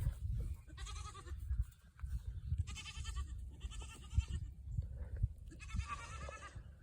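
Goats on a farm bleat in four separate bursts, loud and close, with quiet shuffling and low rustling between the calls.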